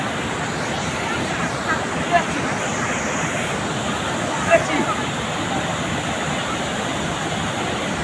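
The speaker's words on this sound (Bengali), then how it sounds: "তাহলে চলো দেখো ওই ঝর্ণাটা এতটাই সুন্দর" A waterfall at Bhatinda Falls near Dhanbad, heard as a constant broad roar of rushing water, loud and steady throughout, with a couple of faint clicks and a murmur of distant voices.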